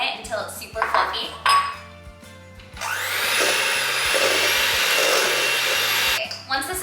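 An electric mixer creams room-temperature butter for gingerbread cookie dough, starting with a few clinks of bowl and utensils, then a steady loud whirring drone for several seconds over background music.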